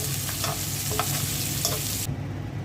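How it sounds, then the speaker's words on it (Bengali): Chopped onion, garlic and green chilli frying alongside rohu fish in oil, a dense continuous sizzle with a few spatula scrapes, loud and close, cutting off sharply near the end. "রুই মাছের সাথে ভেজে নিচ্ছি।"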